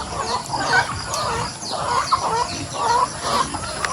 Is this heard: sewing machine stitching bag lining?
no